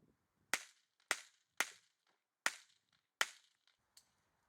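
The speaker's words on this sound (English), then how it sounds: "All those plates went down nicely. Nice shooting." Minirifle shots at a shooting competition knock down steel plates, six sharp cracks spaced roughly half a second apart, each with a brief ringing metallic tail, clear and alone.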